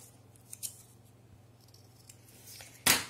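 Scissors snip bevelled corners off a paper strip: quiet, close cutting noises with a few light snips, then one sharp, louder snip at the end, and no talking.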